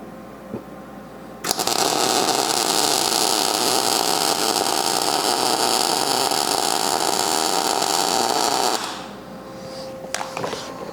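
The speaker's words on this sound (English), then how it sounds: "we'll just run a quick little bead inside of the angle" A welder runs a short bead inside a steel angle on a fabrication table: a loud, steady crackling hiss starts abruptly, holds for about seven seconds, then stops, followed by a few faint clicks.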